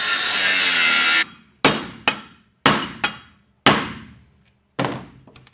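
A saw cuts through aluminium bonded to steel in a burst of bright, harsh grinding noise, followed by a series of sharp metallic knocks and thuds as the pieces are struck apart.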